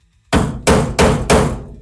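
Tapping a heater channel carpet rail into place on a Volkswagen during restoration: four sharp metallic hammer blows in even succession, close and loud, each ringing briefly before the next.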